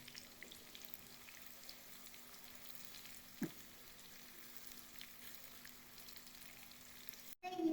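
Onions fry in a large amount of ghee, about 250 grams, for a tempering in chicken haleem, giving a steady, fairly faint sizzle throughout with a brief stir clank partway and a louder clatter at the end.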